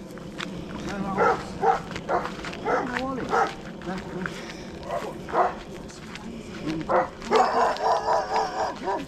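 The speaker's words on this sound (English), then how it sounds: "Dogs everywhere." Several dogs bark in short bursts, some close and some farther off, with a few higher yips mixed in.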